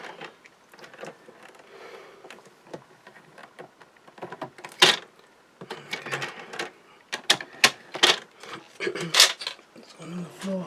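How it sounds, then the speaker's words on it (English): Someone clears a bit of stuck card from under the blade of a paper trimmer, making irregular clicks, rattles and plastic knocks up close, sparse at first and then busier, with brief speech nearby. "I've got a little bit of card stuck in my blade under my trimmer, which I'm going to try and get out."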